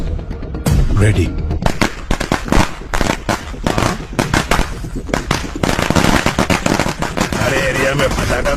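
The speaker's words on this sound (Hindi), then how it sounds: "अरे एरिया में पटाखा कौन फोड़ रहे रे?" Firecrackers burst in a dense, rapid crackling volley in a neighbourhood area, sharp pops coming in quick irregular clusters throughout, loud and close, with voices faintly mixed in.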